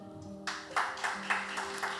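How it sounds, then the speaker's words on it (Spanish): A church congregation at an evangelistic campaign service claps for the Lord, with several loud bursts of applause arriving in uneven waves over sustained keyboard or organ tones, starting abruptly after a quiet opening. "regálale un aplauso al Señor"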